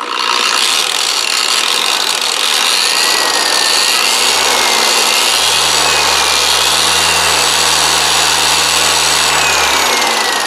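A cheap long-throw car polisher runs steadily with its trigger locked on, a continuous loud motor whine with a rasping buffing texture and a shifting low hum as the speed changes partway through.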